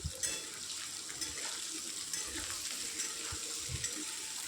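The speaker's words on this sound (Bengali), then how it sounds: "এদিকে পেঁয়াজ আর আলুটা দিয়ে দিচ্ছি এটা হালকা করে ভেজে নেব" Onion and potato sizzle gently in a pan, a soft, steady crackle with faint stirring scrapes, fairly quiet and unbroken.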